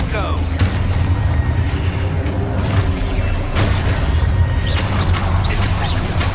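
Confringo blasting spell going off in Hogwarts Legacy, a heavy low booming explosion with crashing debris and rumbling roar, loud and close amid clashing combat sounds and a voice shouting.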